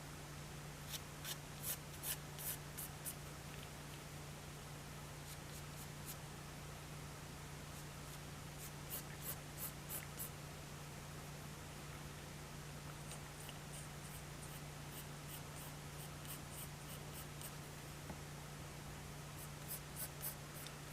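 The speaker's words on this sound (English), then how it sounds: "I tend to make a lot of little jerky motions with my pencil as I go" Pencil sketching on paper in quick, jerky bursts of scratchy strokes, close and fairly faint, with pauses between clusters over a steady low hum; no talking.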